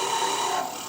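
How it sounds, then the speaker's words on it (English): A diamond drill turns very slowly while boring into a stone ball bead, giving a faint, even grinding rasp that stays steady and close with no talking. "you can hear on that drill's hardly spinning at all"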